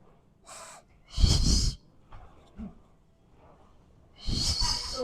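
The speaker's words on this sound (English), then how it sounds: "Inhale, exhale." Deep breaths during a mat Pilates exercise: a strong whooshing inhale and exhale, a quieter breath before them, and another loud breath a few seconds later, close to the listener.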